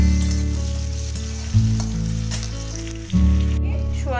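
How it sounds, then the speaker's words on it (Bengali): Chopped onion sizzles loudly in a hot pan for chilli paneer, a steady crackling fry stirred lightly, with two brief bursts where it flares up. "হালকার উপর জাস্ট একটু নাড়াচাড়া করে ভেজে নিচ্ছি"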